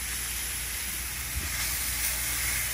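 Mushrooms browning in oil in a pan for rigatoni with eggplant, giving a steady, soft sizzling hiss that holds evenly throughout with no talking.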